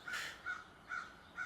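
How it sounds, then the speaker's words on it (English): Birds calling outside a bedroom window: four evenly spaced crow-like caws, moderately distant and soft against a quiet background, with no voices. "listening to the singing of birds outside my bedroom window"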